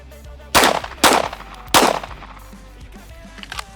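Three sharp, loud pistol shots fired at targets on a range, spaced roughly half a second apart, each ending in a short echoing tail, with quiet afterward.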